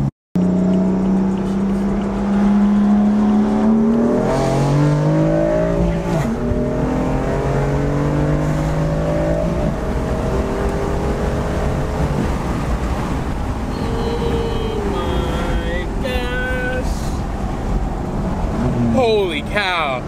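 A tuned BMW F82 M4 engine revs on a dyno up through rising pitches, roaring loudly and steadily close by, with a voice briefly heard over it.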